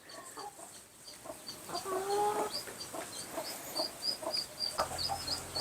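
Laying hens cluck repeatedly nearby as they are fed a banana stem supplement, with short clucks and a few longer calls over a background of pecking and shuffling noise, and no speech.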